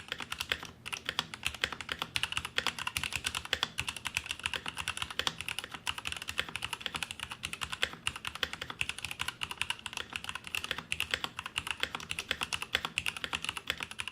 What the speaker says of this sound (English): let's hit up that tippity-tap test and see what raised red linear switches on a metal chassis sound like